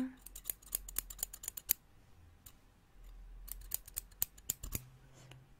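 Scissors cut hair at close range in a quiet haircut setting, with crisp metallic snips in quick rapid runs separated by a short pause and a soft low rustle beneath.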